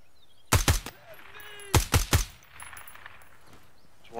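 Gunfire in the tactical shooter game Ground Branch: two short, loud bursts of rapid shots about a second apart, with quiet ambience between them.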